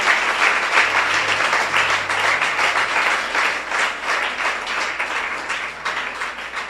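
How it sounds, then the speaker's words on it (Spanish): A church congregation claps together in sustained, dense applause at a steady loud level, with no pause throughout. "den un aplauso a Cristo"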